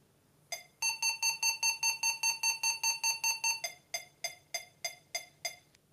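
A small speaker driven by an Arduino electric field sensor emits a rapid train of sharp electronic beeps, then slower, evenly spaced ones, close and clear over quiet background hum.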